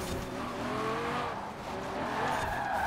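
A race car in Forza Horizon 4 drifts through a corner, tires squealing in a steady, continuous skid over engine roar for a few seconds, with no talking.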